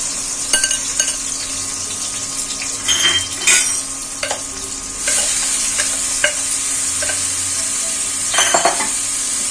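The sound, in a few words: raw papaya frying and stirring in a pan with chickpeas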